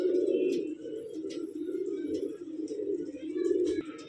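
Pigeons of a pure bloodline for sale in Delhi keep up a continuous low, throaty cooing, several birds nearby, with a few light chirps and clicks over it.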